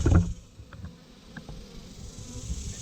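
Honeybees fanning inside a hay baler give a soft, continuous buzzing drone, faint and close, with a louder rustle at the start and a few small knocks.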